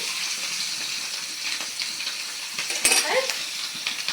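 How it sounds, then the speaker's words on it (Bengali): Pabda fish frying in a pan of oil, spitting and crackling up close with a brief burst of louder spattering near the end, no talk. "এই যেমন মাছগুলা ভাজা হচ্ছে"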